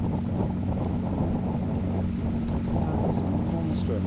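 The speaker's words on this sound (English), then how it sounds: "Oh my gosh, it's windy up here." Strong wind buffets a narrowboat on the Bridgewater Canal, a constant low roar and rumble of gusts against the microphone that lasts the whole clip.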